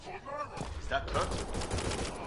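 Bursts of rapid gunfire in a Mass Effect firefight, loud and close, crackling over game sound effects, with voices and chatter mixed in at the start.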